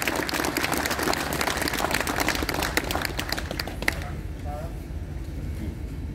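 Applause from a live audience at a poetry reading in Parnell Square, dense steady clapping that fills the first four seconds and then cuts off, leaving a quiet room with faint murmurs.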